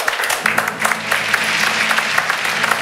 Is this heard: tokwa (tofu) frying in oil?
no